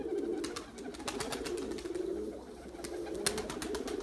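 Young pigeons coo low and steadily at close range in a garden loft, with soft wing flutters and light landing taps scattered throughout.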